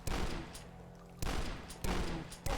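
Pistol gunfire in a nighttime video game: three or four loud, sharp shots spaced about half a second to a second apart, each trailing off into a short ringing decay, with no talk over them.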